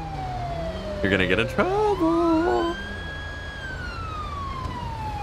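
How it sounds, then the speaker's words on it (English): A police car siren in a video game wails in long sliding tones, rising and falling across the clip, while several short blips cut in and a voice talks over the middle. "God, that fucking siren. Just had to keep it on."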